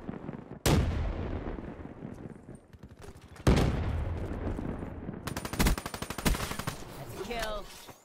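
Artillery barrage from a Black Ops 3 match, with heavy booming blasts at about 0.6 and 3.5 seconds followed by rumbling decay, then a rapid cluster of sharp impacts near 5.5 to 6 seconds, all loud and close.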